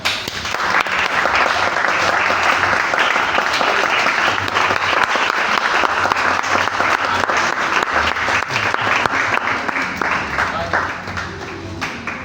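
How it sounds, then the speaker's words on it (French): Loud, dense applause from an audience, a continuous wash of many hands clapping that holds steady throughout. "Est-ce qu'on peut applaudir de vous-même?"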